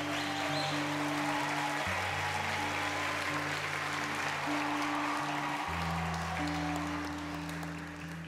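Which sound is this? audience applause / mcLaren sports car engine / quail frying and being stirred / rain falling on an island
audience applause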